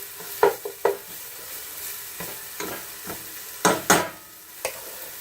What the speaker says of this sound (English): I'm caramelizing the onions. Trying to separate them out here so they'll caramelize better